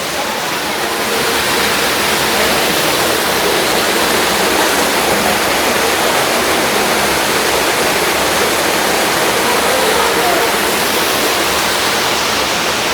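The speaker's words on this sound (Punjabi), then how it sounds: "ਉੱਪਰੋਂ ਪਾਣੀ ਡਿੱਗਦਾ" Loud, continuous rushing of water pouring down from a height into a fish enclosure at the MUSE museum in Trento, a dense unbroken roar with no pauses.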